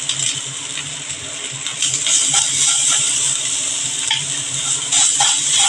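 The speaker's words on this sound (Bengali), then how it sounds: "একটু আদাটা ভাজা করে ভেজে নিচ্ছি" Ginger paste fries in hot oil with a little salt, giving a continuous close sizzle broken by light stirring taps and scrapes, with no talking.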